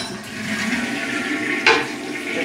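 A toilet flushes close by in an apartment bathroom, a steady rushing swirl of water with a brief louder surge near the end and no voices.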